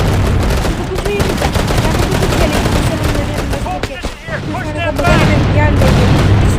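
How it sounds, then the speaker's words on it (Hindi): Sniper rifle fire in a shooting video game, sharp shot bursts layered over a dense, loud game soundtrack and effects, with a voice speaking through much of the mix. "और फिर से स्नाइपर ने मुझे हेडशॉट मारा।"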